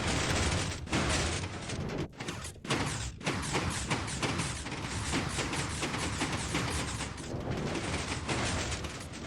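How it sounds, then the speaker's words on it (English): Piston bolt mechanism in a video game, set off by a button push, producing a dense, sustained stream of loud mechanical thumps and rattling clacks with a few brief pauses early on, no voices. "do you want to try to ride the piston bolt? Okay. And then just push that button right behind you."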